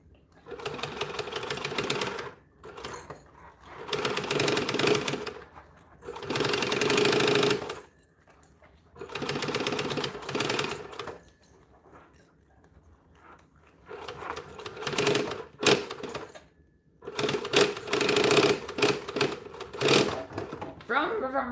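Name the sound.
sewing machine stitching a bag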